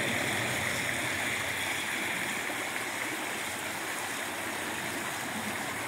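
Stream water rushes around an in-stream improvement structure and is pushed back toward the channel's center, a constant broad gurgling roar heard outdoors without pause.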